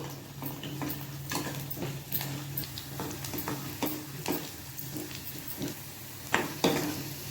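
Mustard seeds and curry leaves fry in oil with a steady sizzle, punctuated by irregular pops and crackles, plus a few louder clicks near the end.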